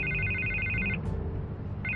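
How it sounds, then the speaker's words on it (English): Telephone ringing in a Batman Telltale game scene, a steady electronic ring repeating in two bursts with a pause between, moderately loud over a low background bed. "I can't get the phone to stop ringing."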